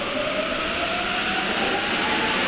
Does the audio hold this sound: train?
yes